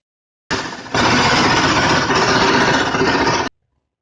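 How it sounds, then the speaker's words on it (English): A powder grinder milling dry soybeans whirs loudly and steadily at close range, starting abruptly, surging to full speed after a moment, then cutting off sharply after about three seconds. "So I'll grind this to a powder, then I'll sieve it with a mesh."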